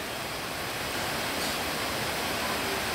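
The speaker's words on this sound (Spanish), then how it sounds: "Vaya, miren que se vino el agua" Heavy rain pours down outdoors beside a kitchen where Salvadoran hen soup is cooking, a steady, dense wash of noise that stays loud and unbroken from start to finish.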